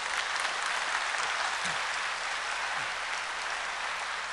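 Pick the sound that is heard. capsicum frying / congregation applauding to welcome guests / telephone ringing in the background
congregation applauding to welcome guests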